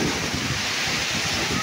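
Typhoon wind roars hard and continuously against the microphone, a dense, loud rush with no breaks.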